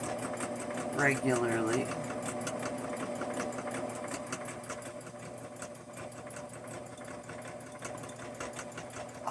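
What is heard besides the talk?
sewing machine quilting a mug rug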